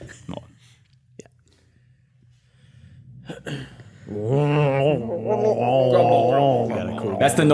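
After a few soft breaths and clicks, a voice imitates the dying noise of an owlbear with a drawn-out, warbling, gurgling groan that grows louder and rougher over several seconds.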